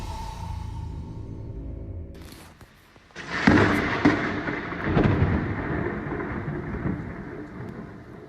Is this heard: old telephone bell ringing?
no